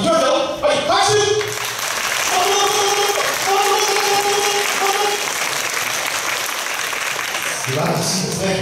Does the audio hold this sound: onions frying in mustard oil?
no